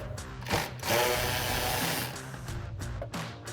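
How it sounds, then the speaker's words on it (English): A 13 millimeter socket on a tool whirs and buzzes in short bursts, close by and fairly quiet, as bolts come out of the front lower valance on a 2018-2020 Ford F-150. "So we've got our 13 millimeter socket, and we'll pop those out."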